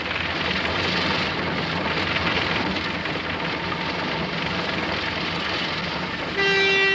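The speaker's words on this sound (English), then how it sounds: "That's my train." A model steam train runs with a steady, broadband rushing chuff and hiss throughout, fairly close, ending with a clear tonal toot of its whistle.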